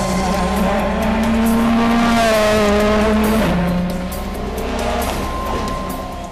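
A Ford Fiesta WRC rally car races on a mountain road in the hills behind Nice, its engine note loud and close as it rises and drops through gear changes, with a brief tyre squeal partway through.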